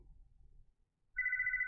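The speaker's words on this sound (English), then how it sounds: "Donna, answer the phone." A telephone bell starts ringing abruptly after a quiet stretch of faint low rumble, a steady trilling ring that carries on to the end.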